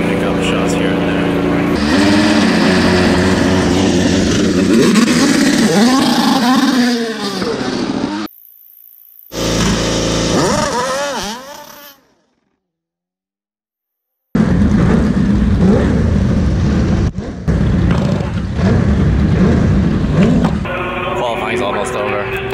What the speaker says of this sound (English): It's qualifying right now, and all the cars are lined up on pit lane.